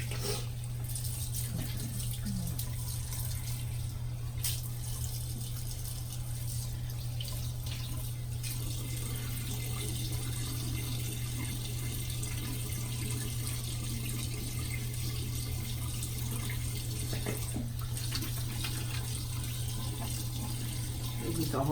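A bathroom tap runs steadily for face washing, a constant gush with a few faint drips and splashes, while a person talks over it now and then.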